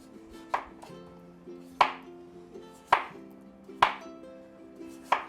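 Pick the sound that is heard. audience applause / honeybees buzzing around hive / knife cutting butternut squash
knife cutting butternut squash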